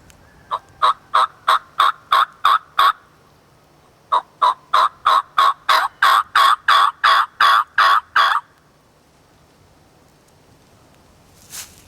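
A handmade turkey call imitates a gobbler with loud, close, rapid gobbling bursts in two long runs of about eight and ten notes each, separated by a brief pause, then near silence.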